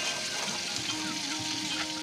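Pangas fish roe, liver and fat fry in hot oil in a pan, making a dense, loud, continuous sizzle that stays even from start to finish with no voices.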